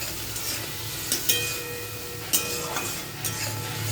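Spice paste sautéed with a little water for a Bengali fish curry, a steady close sizzle broken by scraping stirs and a few sharp clinks of the spoon against the pan.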